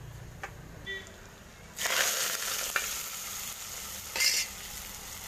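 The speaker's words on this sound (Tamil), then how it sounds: "இந்த டைமில் நம்ம ஜீரகத்தை இதோட ஆட் பண்ணிக்கிறோம். இப்போ ஃபுல்லாக ஃப்ரை ஆகிடுச்சு." Cumin seeds frying in hot oil for a drumstick leaf (murungai keerai) poriyal, a steady sizzle that swells loudly midway and again briefly later, with a few light clinks and no talking.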